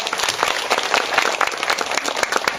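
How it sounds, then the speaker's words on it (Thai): An audience gives a teacher a round of applause, a short burst of brisk, close, even clapping from a crowd. "ปรบมือให้เกียรติอาจารย์สมหวังอีกครั้งครับ"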